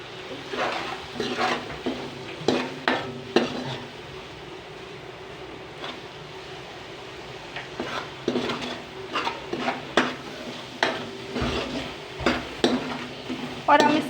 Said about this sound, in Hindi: टमाटर और मिर्च ऐड कर रहे हैं।